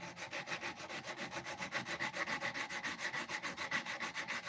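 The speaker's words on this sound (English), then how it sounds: "always tough to sand out that dry glue. I'm gonna go a little heavy." Dry glue is sanded off a knife build by hand in fast, steady, rhythmic back-and-forth strokes, close up and constant throughout.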